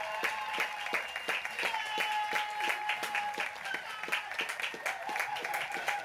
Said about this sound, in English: That's a 10 on the cheering scale